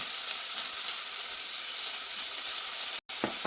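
Chopped onion and curry leaves sizzle steadily in a hot pan for a Kerala-style crab curry, a loud continuous hiss with a brief break and light stirring scrapes near the end.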